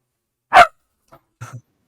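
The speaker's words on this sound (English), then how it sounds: "they're barking at each other" Dogs bark at each other indoors: one sharp, loud bark followed by a tiny yip and a softer double woof, brief and close with silence between.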